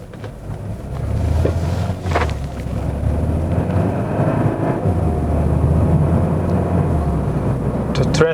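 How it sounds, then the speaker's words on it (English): Interior of a Mercedes-Benz A200 W177 A-Class with a 7-speed dual-clutch transmission, driving in comfort mode: a steady low engine and road rumble with wind noise that holds throughout, moderately loud and close, with no talk. "Now let's go for a drive and explore the driving characteristics of the A-Class."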